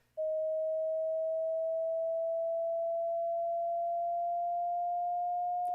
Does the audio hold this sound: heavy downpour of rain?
no